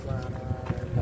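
Strong wind blows across a kite flying field, a low buffeting rumble against the microphone that swells and dips in close gusts.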